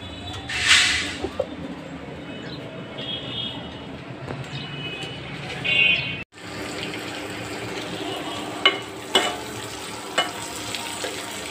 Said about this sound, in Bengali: এখানে ডিম রান্না করছি।